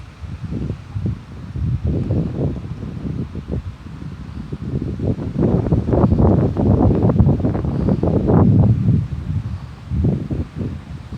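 A learner car on a dirt practice lot, shaking as it pulls off in what may be third gear, heard from inside as a loud, steady rumbling and buffeting roar that builds toward the middle and keeps going to the end.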